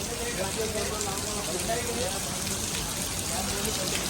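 Steady rain hisses at Jari Mari hill point as a broad continuous wash of noise, with scattered drops pattering on surfaces and voices faintly underneath.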